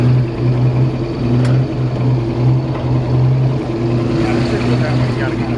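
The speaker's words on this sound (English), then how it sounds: "Hey, rev that up a little bit. Man, that thing sounds nice. It almost sounds like a little V8." A 1965 Ford F100 shortbed pickup with a brand new exhaust idles and revs in a steady low rumble, close and loud, with people talking over the engine.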